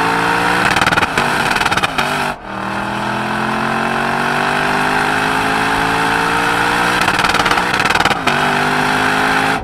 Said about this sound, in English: I'm nailing it off the rev limiter because it's so fun to do